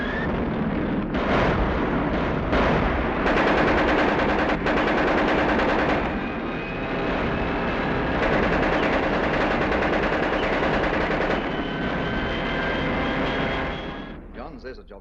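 Dense, continuous machine-gun and anti-aircraft fire from a 1942 war film rattles loudly with overlapping bursts and booming shots, almost unbroken for about fourteen seconds, with a voice speaking beneath the din.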